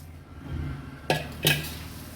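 Puffed rice being stirred with turmeric in hot oil in a pan, giving two sharp scraping clatters of a spoon against the pan over a low background hum, with no talking.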